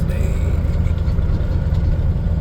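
Truck engine idling steadily on a rainy day while pulling in to deliver a load, a close, continuous low rumble with no talk.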